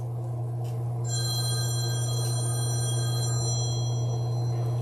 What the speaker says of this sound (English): oops, forgot to turn my phone off